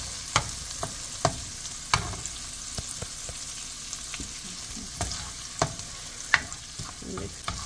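Ginger fries in a pan for shrimp fried rice, a soft steady sizzle broken by regular sharp spatula taps and scrapes against the pan, with no talking.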